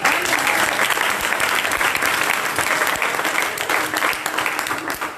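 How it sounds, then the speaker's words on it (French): A church congregation applauds loudly and continuously, dense clapping with scattered cheers filling the space throughout. "On acclame Jésus pour lui."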